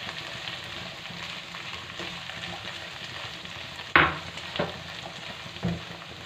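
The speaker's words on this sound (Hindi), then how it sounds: "अब हम इसमें डालेंगे शिमला मिर्च और इसको भी हम थोड़ी देर के लिए फ्राई कर लेंगे" Carrots and capsicum sizzle steadily in a hot pan, a continuous close frying hiss, with a few sharp scraping stirs near the end.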